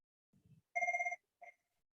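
A phone rings during a corporate video call, first a short low buzz, then a clear electronic ring burst followed by a briefer second chirp, fairly faint with no talking over it.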